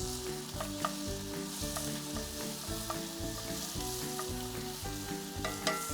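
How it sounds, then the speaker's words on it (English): Bacon frying in oil in a preheated pan on a Kamado Joe Classic 2 grill, a steady close crackling sizzle with small pops throughout and no talk. "We're going to go in with our oil"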